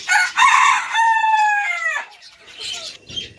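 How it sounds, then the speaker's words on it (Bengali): A rooster crows loudly nearby, with hens clucking before and after the crow. "এই হচ্ছে আমাদের মুরগি"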